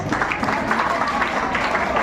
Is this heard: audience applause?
yes